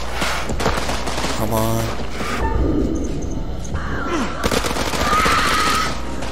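Gunfire in the House of Ashes video game: bursts of shots and rattling fire mixed with game effects, while a player exclaims and talks over the action.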